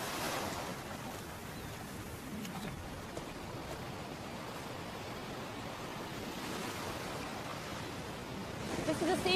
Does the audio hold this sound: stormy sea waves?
yes